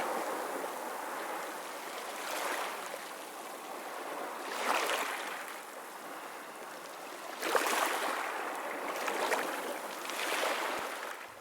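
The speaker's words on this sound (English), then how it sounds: "the sound of water lapping on the beach" Water lapping on a beach shoreline in the game Memoreum, soft recurring washes of small waves rising and falling every couple of seconds over a constant low watery hiss, with no voices.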